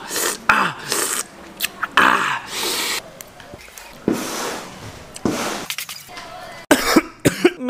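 A child coughs repeatedly in harsh, uneven bursts, loud and close, with brief pauses and small knocks between fits.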